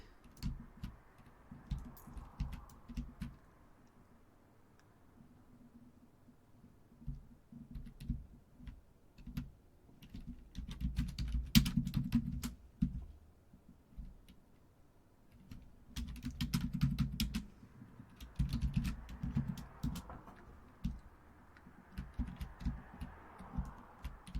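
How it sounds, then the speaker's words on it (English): Rapid keystrokes on a computer keyboard come in bursts with short pauses between them, clattering loudly and close while a Minecraft game is played, with no voice over them. "This is so obnoxious, the keyboard."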